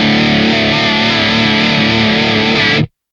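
Smart guitar played through a vibrato effect, a sustained distorted chord ringing loudly and evenly before cutting off abruptly into silence.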